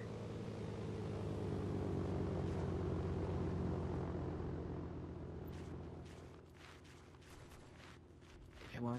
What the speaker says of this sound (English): attack plane shooting us